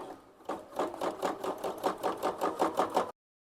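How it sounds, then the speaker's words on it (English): A sewing machine free-motion stitching a patch onto jeans runs in a steady, rapid rhythmic chatter of needle strokes, close and continuous for about two and a half seconds before stopping abruptly. "I am free motion stitching it"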